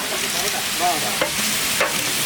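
Ground spice paste fries in a pan for a village-style chicken roast and is stirred through it. A loud, constant sizzle runs throughout, with a few soft scrapes from the stirring.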